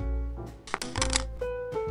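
Playing cards are shuffled in a mind-reading card trick, giving a few quick riffling bursts of papery flutter close up in a quiet setting, with faint tonal sound in the background.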